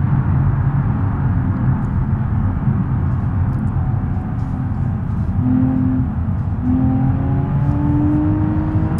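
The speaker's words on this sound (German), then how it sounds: "Den Motor in der Trackday-Kiste." A trackday car's engine drones and revs in the BeamNG driving game, a steady loud hum with rising tones that climb through the gears in the second half, with no voices over it.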